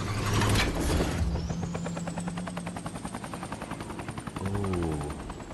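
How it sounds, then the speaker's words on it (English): Helicopter glider in Fortnite, a steady rapid rotor chop that thrums loudly and evenly for several seconds after a rising whine spins up, with no talking over it. "I'm going to check out this chopper glider."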